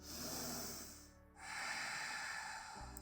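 A deep breath during a yoga exercise: a long, audible inhale, a short pause, then a slow, airy exhale, close and soft, with no talking.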